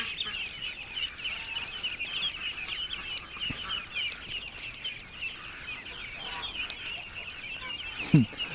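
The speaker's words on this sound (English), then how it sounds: "That's a massive amount of ducklings" A crowd of ducklings in a pen peeps continuously in high, thin chirps at moderate volume, with a brief low thump near the end.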